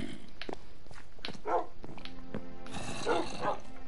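Dogs in the video game Minecraft give a few short barks and yips at moderate volume, spaced irregularly over a busy background of game noise.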